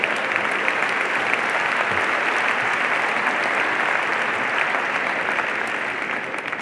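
Sustained audience applause fills a comedy club or theatre during a stand-up set, steady and dense from start to finish with no speech over it.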